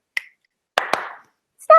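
Two sharp finger snaps ring out close and crisp in near silence, followed by a brief start of speech.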